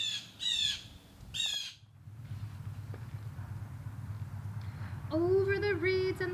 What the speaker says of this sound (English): The bird shrieked with glee